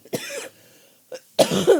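A few harsh coughs close to the mic: one burst, a short pause, a quick small one, then two heavier coughs in a row.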